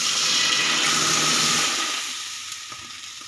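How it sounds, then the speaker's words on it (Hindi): Water is poured into a hot pan in a sink, giving a loud hissing sizzle that holds for about two seconds, then fades to a softer trickle with a few small clinks. "अब पानी डालूंगा ना"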